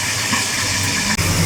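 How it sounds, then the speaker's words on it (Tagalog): Hot oil spatters and hisses steadily in a pan while dalagang bukid fish fries, a dense close crackle that continues without a break and carries no speech. "Tumatalsik yung mantika."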